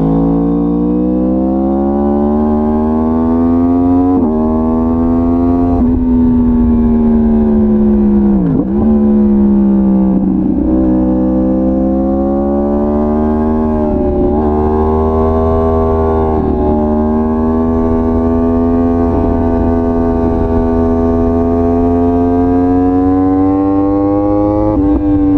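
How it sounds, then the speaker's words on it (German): Yamaha R1 with its crossplane four-cylinder engine, a loud sustained close-up howl that rises and falls through repeated revs and gear changes for the whole stretch, with no talking. "Vor allem die Soundkulisse auch. Dieser Crossplane Vierzylinder, das hat man auf keinem anderen Motorrad."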